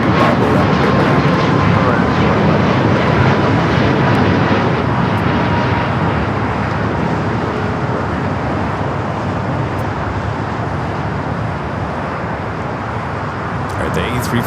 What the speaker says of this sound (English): The A350-1000 making those final turns heading into the gates of Tom Bradley.